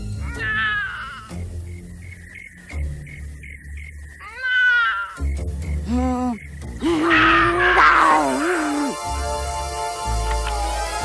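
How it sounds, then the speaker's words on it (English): A house cat meows several times in drawn-out, wavering cries that rise and fall, some groaning and caterwaul-like, close and fairly loud, amid scattered background sounds and a brief musical swell near the end. "It was only the cat."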